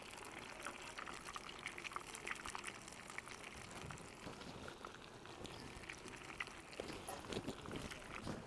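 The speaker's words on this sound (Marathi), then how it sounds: "आपण आता भट्ट्या सोडू तेलामध्ये" Dal batti dough balls frying in very hot oil, a low, steady crackling sizzle that continues evenly throughout.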